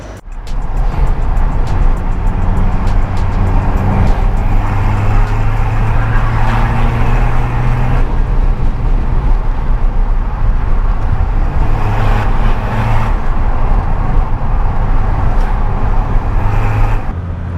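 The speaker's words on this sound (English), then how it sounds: "Gear changes, clutch." Skoda Fabia vRS Mk1 with a 1.9 diesel engine drives along, its steady engine drone rising and settling through several gear changes and clutch shifts, loud and close throughout.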